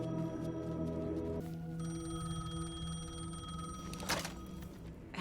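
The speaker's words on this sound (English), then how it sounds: "The payphone was ringing." A payphone rings in the video game Alan Wake 2, its bell tone sustained and steady under a dense, droning layer of ambient game music and noise.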